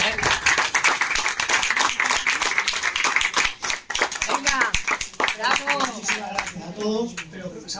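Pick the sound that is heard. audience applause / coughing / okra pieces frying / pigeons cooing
audience applause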